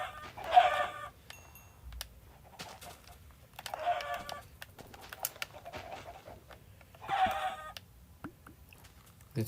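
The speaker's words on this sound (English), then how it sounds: "The chickens just jump off and then their XP falls into the void." Minecraft chickens clucking on a Bedrock Skyblock server, three separate bursts of clucks spaced a few seconds apart, clear and alone over a faint low background.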